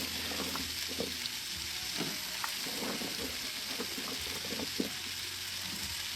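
String beans with tomatoes sauté in a pan for a ginisang sitaw with oyster sauce, giving a quiet, continuous frying hiss broken by soft, irregular scrapes and taps as they are stirred.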